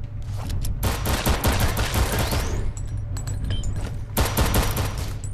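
Dense, rapid automatic gunfire rattles from weapons in a VR katana game, a loud continuous fusillade of overlapping shots with a brief lull midway.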